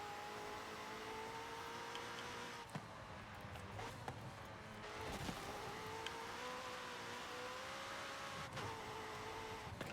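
McLaren car in Forza Horizon 5 driving through corners, its engine a faint steady drone with gently rising and falling pitch and a few small bumps and clicks.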